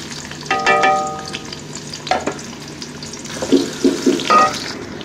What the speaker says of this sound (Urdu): گھی گرم ہو چکا ہے، اب ہم اس میں پیاز ڈال دیں گے،